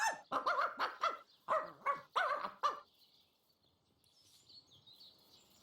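Dog barking in the video game Divinity Original Sin, a rapid run of about nine sharp, close barks in quick bursts, followed by quiet with faint bird chirps in the background.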